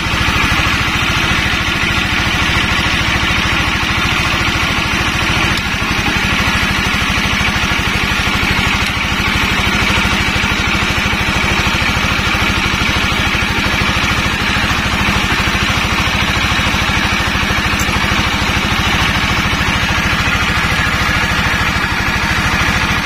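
Honda CBR 150 motorcycle engine idling steadily at close range, a continuous even mechanical hum and rattle that holds at the same level throughout, with no talk over it.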